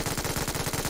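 Rapid automatic gunfire in a mobile battle-royale shooter, a steady close burst of evenly spaced shots filling the whole moment.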